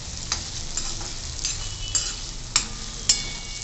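Chopped cabbage with turmeric sautés in a pan, giving a continuous close sizzle with regular scraping stirs from a spatula every half second or so, growing slightly sharper toward the end, with no voices.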